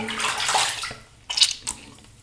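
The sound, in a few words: water running to rinse off shaving soap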